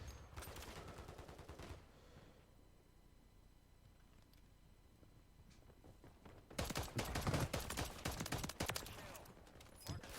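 Sniper rifle and other gunfire in Call of Duty Resurgence mode, a burst of rapid shots at the start, a quieter stretch, then loud sustained firing in the final seconds, all close.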